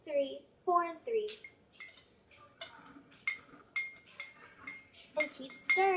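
A utensil stirring a melting crayon lip balm mixture in a pot gives quick, sharp metallic clinks and scrapes in irregular bursts, close and fairly quiet, with a voice briefly in the background.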